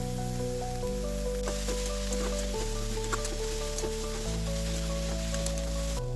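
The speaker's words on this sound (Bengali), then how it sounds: "তারপর তাতে জল ঝরানো কাটা সবজিগুলি দিয়ে 1-2 মিনিট হালকা ভেজে নেব।" Chopped vegetables lightly frying in a pan for veg momo filling give off a steady, soft sizzle with scattered crackles, partly masked by continuous background music.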